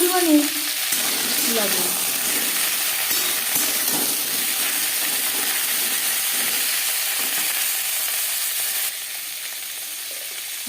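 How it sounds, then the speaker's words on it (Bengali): Pointed gourd (potol) lightly frying in oil in a pan gives a continuous bright sizzle throughout, with a person speaking briefly over it near the start. "পটল হালকা করে ভেজে নেব।"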